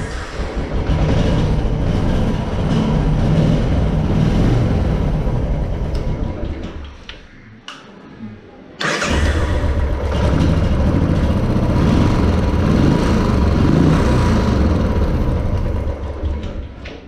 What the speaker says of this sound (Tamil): ஸோ இப்போ பைக்கை ஸ்டார்ட் பண்ணி பார்ப்போம்.